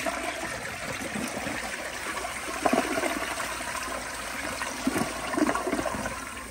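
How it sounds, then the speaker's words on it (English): An elongated Vortens Vienna toilet from the 2000s flushes with a full tank, a close rushing gush of water that swirls and drains steadily, with some wind noise in the background. "here is another flush with the full tank"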